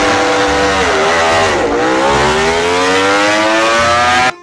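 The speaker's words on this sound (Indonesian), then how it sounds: "motor balap" Toy racing motorcycle engine whining loudly and steadily, pitch dipping briefly then climbing in a long sweep before cutting off abruptly.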